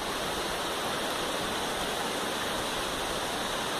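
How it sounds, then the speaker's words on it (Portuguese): At Cachoeirão in Vale do Pati, Chapada Diamantina, a waterfall pours with a loud, constant broadband roar, an unbroken rushing hiss with no voices over it. "E tem uma cachoeira lá atrás"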